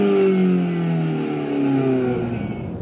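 An Alfa Romeo Giulietta Quadrifoglio Verde, 240 hp, accelerating hard on a test drive, its engine note sweeping upward in pitch, loud and close from inside the car, no voices.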